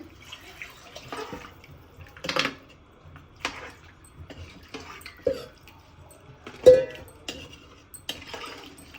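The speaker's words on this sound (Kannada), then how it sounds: "ಅದನ್ನು ಅಳತೆ ಮಾಡಿ ಇದರಲ್ಲಿ ಇಟ್ಕೊಂಡಿದ್ದೀನಿ ನೀರು. ಇದನ್ನು ಇದಕ್ಕೆ ಸೇರಿಸ್ಕೊತಾ ಇದ್ದೀನಿ." Measured water poured into a pot of nati-style green chicken biryani in a home kitchen, heard as soft splashing with clinks of vessels, quiet and close with no talk.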